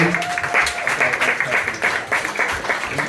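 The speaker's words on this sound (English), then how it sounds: "Another massive round of applause, please, for Nick Goodall" A live audience applauds performer Nick Goodall with sustained, dense clapping that stays loud and even throughout.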